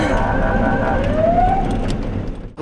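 A fire engine siren on a street in Chernivtsi, wailing with a rising tone over steady traffic rumble, fairly close and sustained.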